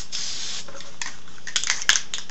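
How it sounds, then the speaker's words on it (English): Spray paint can hissing steadily up close while painting the edges of a shop pegboard, with a few small clicks and rattles near the end, fairly quiet and without talk. "So you just take your spray can"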